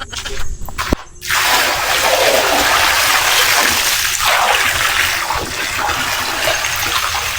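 Water from a newly built Jetmatic hand pump on a farm gushes and splashes in a steady, loud outpouring after a brief knock, continuing evenly throughout with no talk.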